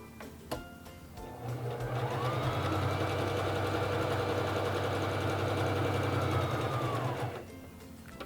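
A Singer Fashion Mate 3333 sewing machine runs a steady stitching burst of about six seconds, its fast even mechanical whir starting after a faint click and stopping cleanly, with no voices.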